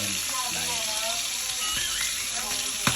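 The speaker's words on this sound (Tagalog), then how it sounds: "piniprito na natin yung bangus bago natin sasabawan" Milkfish (bangus) fries in hot oil in a home kitchen, a continuous bright sizzle with occasional pops and spatters, and a voice speaks softly over it.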